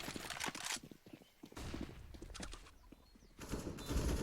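Gunfire in a Counter-Strike match on the Inferno map: bursts of rapid automatic spray and shots in several dense clusters, loud and close, separated by brief quieter gaps.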